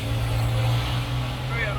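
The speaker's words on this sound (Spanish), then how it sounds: "Ruido, el autobús." A bus passes on Prado street in Havana, Cuba, a steady low engine drone and rumble filling the short stretch at close range, with people talking over it.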